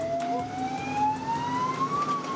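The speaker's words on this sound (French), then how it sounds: "ce sont les sirènes des ambulances qui résonnent dans les rues" Ambulance siren rising slowly in a steady wail through the streets of Ibiza, loud and continuous with traffic rumble underneath, echoing off buildings.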